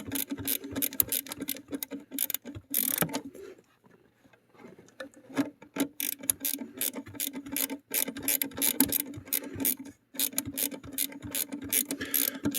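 A ratchet wrench clicks rapidly and repeatedly up close, in bursts with short pauses, while loosening a part on the engine of a Lexus SC300 with a naturally aspirated engine.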